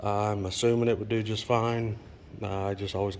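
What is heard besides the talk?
No everyday noise stands out behind the speech.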